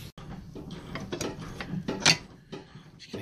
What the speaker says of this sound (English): working away with the ratchet upstairs